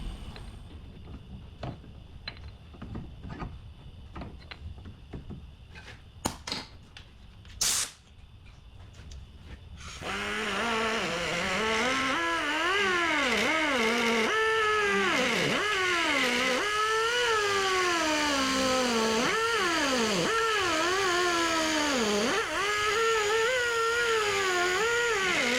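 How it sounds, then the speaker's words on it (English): An angle grinder works the edges of a broken aluminum gear housing: a few scattered clicks and brief handling bursts, then from about ten seconds a loud, continuous grinding whine that rises and falls in pitch as the disc bites and eases off. "So let's go ahead and start grinding these edges"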